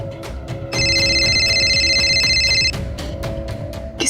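A telephone rings loudly with a steady electronic tone for about two seconds, set against a quiet indoor room background with faint sounds before and after.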